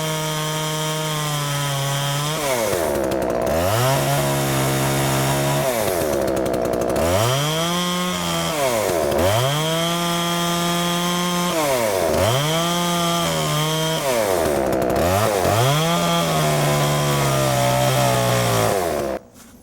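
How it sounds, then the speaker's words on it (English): A chainsaw cuts through thick English ivy vines on a tree trunk, its engine loud and close, rising and falling in repeated revving surges as the chain bites into the woody stems, steady throughout with no talking. "So we're going to use a chainsaw."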